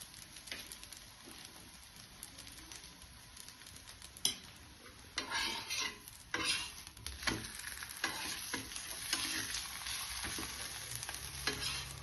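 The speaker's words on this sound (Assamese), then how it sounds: "এনেকৈ ধুনীয়াকৈ ঘি দি পেলাই ভাজি লৈ আছো।" Aloo paratha, a flatbread stuffed with boiled potato, fries in ghee on a pan, giving a steady sizzle with scraping stirs and utensil knocks scattered throughout.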